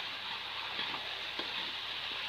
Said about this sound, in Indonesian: Kita tumis lombok ini hingga matang teman.